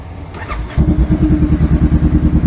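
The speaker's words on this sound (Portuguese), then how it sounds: "Já a moto tá bem caladinha." A 2014 Honda CB500F motorcycle engine starts and settles into a steady, even idle in neutral, a close low rhythmic putter following a brief starter whir.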